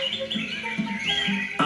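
A robin chirps and warbles in thin, high phrases, with a few lower notes and a sharp final call, close by.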